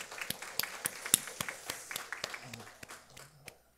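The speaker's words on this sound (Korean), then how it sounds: "우리 찬송 가운데 임재하신 하나님께 감사와 영광의 박수 올려드리겠습니다." Scattered applause from a Korean church congregation during Sunday morning worship, loose uneven claps of moderate level that thin out and fade toward the end, with a faint hum in the background.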